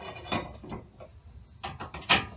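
A bolt being threaded by hand onto a bracket on a 2010 Ford F-150 during fuel pump replacement, a few close metallic clicks and scrapes in an irregular rhythm, with no voices.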